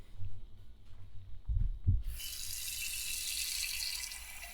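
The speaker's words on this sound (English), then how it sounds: "So we're going to put some water in this." Water runs from a tap into a one-quart pot, starting after a couple of soft thumps as a steady, bright rush of flowing water that continues to the end.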